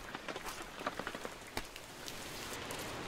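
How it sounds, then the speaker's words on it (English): Rain in the video game Observer, a soft steady patter of drops on a surface with scattered louder taps, fairly quiet and continuous with no voices. "I hear the rain."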